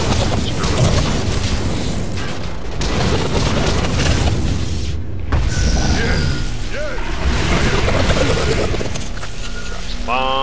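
Kraken monster dropping bombs in the Evolve video game, with booming explosions and crashes repeating throughout under a dense, loud mix of game sounds and someone talking over it.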